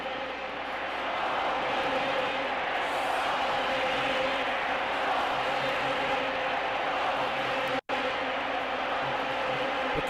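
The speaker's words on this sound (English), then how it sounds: "The chorus grows louder at the Azteca" A largely partisan Mexican football crowd at the Azteca stadium during a 2003 Gold Cup match against Brazil sends up a sustained, massed roar that swells steadily, with a momentary dropout near the end.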